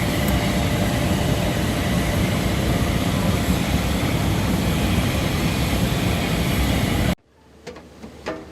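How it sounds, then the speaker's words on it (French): A military airplane taking off at Bordeaux airport to evacuate patients: a steady, loud, broadband engine roar that holds for several seconds and then cuts off abruptly, followed by faint clicks and low background noise. "un avion militaire décolle pour évacuer des malades."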